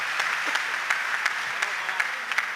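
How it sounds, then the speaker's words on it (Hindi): Audience applause welcoming a poet at a Hindi poetry gathering on the West Bengal election, a soft steady patter of many hands with a few sharper individual claps standing out, fairly distant. "आपने मेरे स्वागत सम्मान में जो घनघोर तालियां बजाई हैं"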